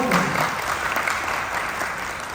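Audience applause at a training program gathering in Lucknow, India, a steady dense wash of clapping from a sizable crowd lasting the whole moment, fairly loud and continuous with no pauses.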